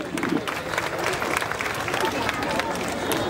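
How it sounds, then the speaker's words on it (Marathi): Sustained audience applause for a poet's verses at a Shiv Jayanti celebration in Devlali Camp, dense and steady throughout with crowd murmur mixed in. "एकदा या मॅडमच्या काव्यपंक्तीसाठी आपण जोरदार टाळ्या वाजवूयात"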